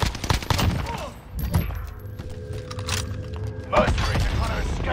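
Video game gunfire rattles in dense bursts, with sharp overlapping shots and mechanical clatter, loud and close, broken by a short quieter gap in the middle.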